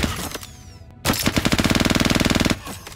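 A weapon in Star Citizen fires a rapid automatic burst of about twenty evenly spaced, loud, close shots lasting over a second, preceded by a few single clicks and handling sounds.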